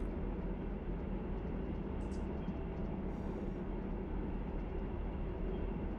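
Steady train rumble from Run 8 Train Simulator III, a continuous low rolling drone with constant loudness and no talk.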